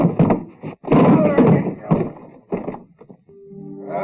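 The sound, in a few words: pounding on a locked door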